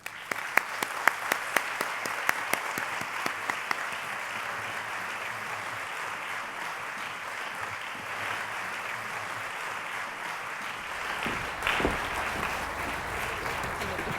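A large audience at a Radcliffe Day 2019 panel event applauds steadily and warmly for over ten seconds, a dense even wash of clapping with a few louder individual claps early on.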